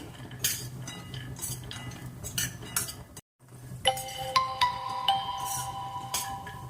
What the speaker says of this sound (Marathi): तर काजू घालून परत 1 मिनिट आपण हलवून घेणार आहोत।